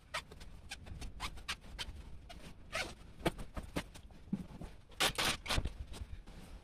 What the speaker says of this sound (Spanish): Ahora simplemente por aquí cerrar la cremallera